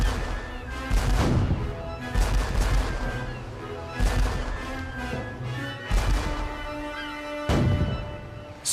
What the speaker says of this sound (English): Hornigold's 3 ships attack the French ship with their guns.